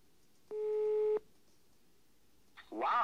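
A telephone tone heard while placing a call, one steady electronic beep lasting under a second, fairly clear against quiet, followed by the start of another sound at the end.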